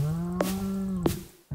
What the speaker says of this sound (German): Dann haben wir noch eine Kuh.